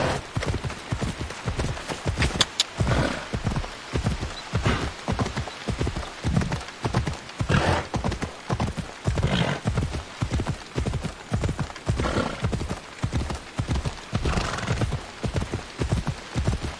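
Phobos the horse in the game Assassin's Creed Odyssey gallops with steady, rhythmic clip-clop hoofbeats that repeat close and evenly throughout, with no talking.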